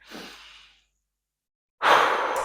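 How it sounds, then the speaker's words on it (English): A deep breath drawn in and then blown out: a soft inhale fades into near silence, followed by a louder, sustained, breathy exhale. "we're going to take a big deep breath in"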